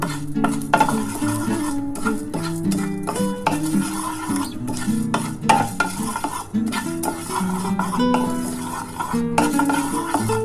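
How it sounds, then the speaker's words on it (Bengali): Whole spices, including dried chillies, rattling and scraping in a dry pan as they are stirred, with metallic clinks of a spoon against the pan throughout. "এটা শুকনো কড়াই ভেজে নেব"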